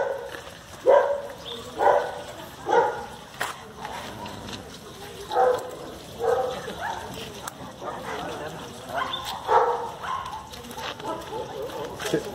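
Dogs bark repeatedly at a kennel visit, with roughly a dozen deep barks spread out at irregular intervals, some near and others further off, over background noise and occasional voices.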